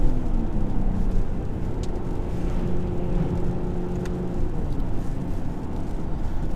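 Engine of a 2020 Mercedes GLE53 AMG SUV droning steadily while driving, a continuous low road and motor rumble heard from inside the cabin, with faint brief crackles.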